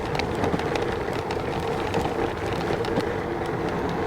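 A Segway ZT3 Pro electric scooter rolls over large gravel, its tires producing a continuous coarse crunching rumble with scattered sharp pops of stones, steady and close throughout.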